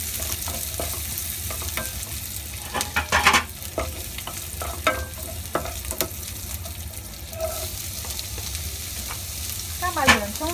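Chinese cured pork being stir-fried in a wok: continuous sizzling broken by scraping and clattering strokes of a spatula, close up, with no talking.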